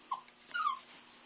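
A puppy at a dog show gives a couple of short, high whimpers close by, a brief yip followed by a longer thin whine, fairly quiet against a still room.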